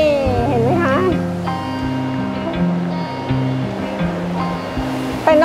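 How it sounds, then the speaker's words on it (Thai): Water rushing and splashing at a secluded jungle waterfall with cold flowing water in Chiang Dao, a steady close roar under a voice speaking in bursts. "เป็นน้ำตกลับๆจริงๆค่ะลงมาไม่มีใคร"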